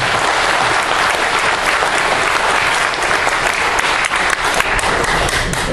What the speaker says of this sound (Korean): 박수를 보내주시기 바랍니다